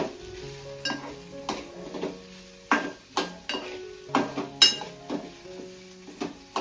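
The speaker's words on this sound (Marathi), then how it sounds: "चला आपली पेस्ट वगैरे फ्राय झाली मस्त पैकी." Ginger, garlic and chili paste frying in a pan while a utensil stirs and scrapes, sharp metallic clinks and knocks landing every half second or so over a soft, steady sizzle, close by with no talking.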